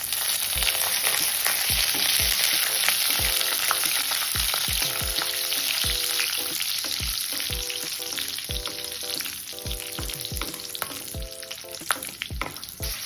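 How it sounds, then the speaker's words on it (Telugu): Whole garam masala and green chillies fry in ghee left from browning onions, a loud, constant close-up sizzle with a stream of sharp crackles and pops, plus faint repeating tonal beeps in the background. "ఇప్పుడు ఇదే నెయ్యిలో హోల్ గరం మసాలా వేసేసుకోవాలి"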